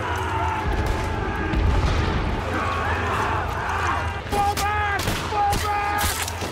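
Battlefield gunfire and explosions from the war film Hacksaw Ridge, with a dense, continuous din of shots and booms under shouted voices and a musical score, loud and close throughout.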